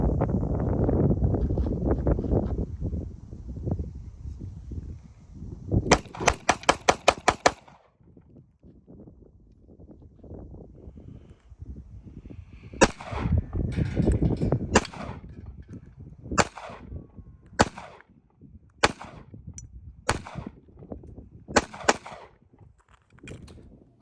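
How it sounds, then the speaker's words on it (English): Rapid shots from a Sig Sauer P238 pistol at an outdoor range, a tight burst of about six loud reports followed by several spaced single shots, with wind buffeting the microphone throughout. "I rapid fired it, you know, a few times"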